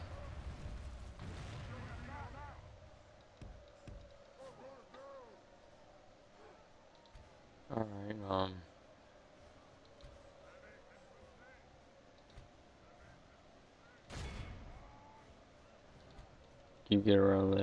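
Units firing in the Third Age: Total War video game, dwarf army in battle: scattered distant booms and cracks spread across a quiet battlefield ambience, with a few louder bursts and a person talking over parts of it.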